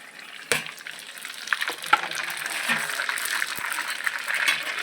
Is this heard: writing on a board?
no